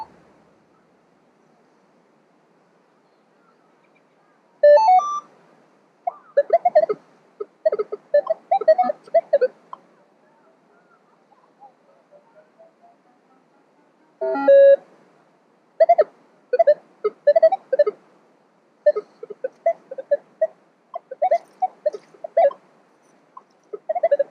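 A Nokta metal detector chirps in an old city park, bursts of warbling beeps and crackly tones in irregular clusters separated by quiet stretches, loud and close.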